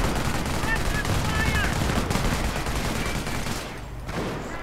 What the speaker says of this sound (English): gets hammered by the heavy machine gun